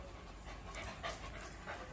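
A pet dog named Bruno pants softly at close range, quick rhythmic breaths forming a faint continuous huffing with no talk over it.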